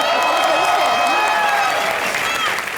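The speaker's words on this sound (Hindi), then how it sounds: "जोरदार तालियां" Studio audience at a Hindi comedy show applauding and cheering, a dense continuous wash of clapping with whoops and voices layered on top, loud and steady throughout.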